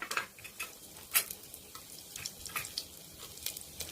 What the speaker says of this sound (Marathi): आता आपण खडे मसाले घालू। जिरे घालते मी, लवंग, दालचिनी, तमालपत्र घालते।